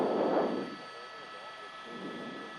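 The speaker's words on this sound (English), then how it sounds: "it looks like a sheriff's helicopter that's tracking the vehicle at this point" A sheriff's helicopter tracks a vehicle during a fiery police chase on a Southern California freeway, heard as a faint, steady, distant rumbling drone that swells slightly at the start and end.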